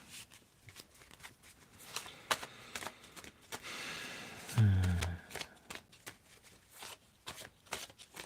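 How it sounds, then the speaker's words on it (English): Someone shuffles a deck of Crosswords Oracle cards by hand: a run of soft papery slides and flicks builds to a denser, louder riffling burst midway, then trails off into scattered card taps. "Why don't you tell me when to stop shuffling"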